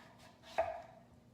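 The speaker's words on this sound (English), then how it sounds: "I think I'm gonna cut this in half" A knife slices through a peeled butternut squash, halving it in one firm, close chop on a cutting board, briefly loud against a quiet room.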